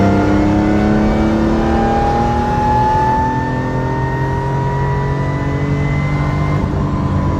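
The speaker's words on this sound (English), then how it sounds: "just to get some diff whine like on the real M3 GTR race cars" A BMW M3 GTR replica fitted with solid subframe and diff bushings revs loudly and steadily, its engine note climbing with a thin rising diff whine layered over the rumble, close and continuous throughout.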